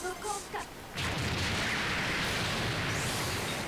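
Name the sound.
boss explosion in video game DoDonPachi DaiFukkatsu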